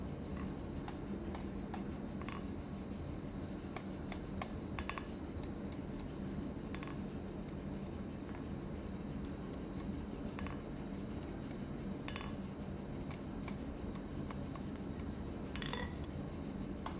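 Scroll pliers bend wire into a leaf-shaped hook, giving scattered faint metallic ticks and clicks over a steady low background hum, with no one talking.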